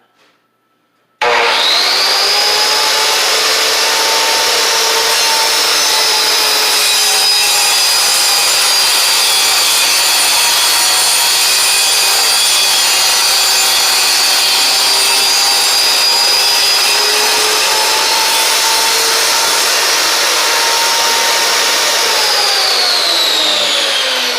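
A Milwaukee 15 amp vertical panel saw rips through a wood panel, a loud steady whining cut with sustained tonal motor hum that starts abruptly and runs unbroken for over twenty seconds, winding down near the end.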